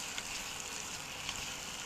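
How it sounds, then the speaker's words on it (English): Apples sauté in butter in a pan, giving a steady, faint sizzle that holds even throughout with no pauses. "keep sauteing it, just keep tossing the apples in the butter so that the apples develop a nice coating"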